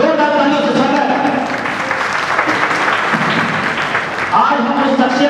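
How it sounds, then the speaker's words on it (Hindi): Audience gives loud, sustained applause welcoming a guest speaker at a Rashtriya Bauddh Mahasabha training gathering in Kanpur; the clapping fills the whole stretch with voices audible over it. "राष्ट्रीय बौद्ध महासभा जोरदार तालियों से स्वागत"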